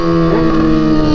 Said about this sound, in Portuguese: Mas a XJ berra muito.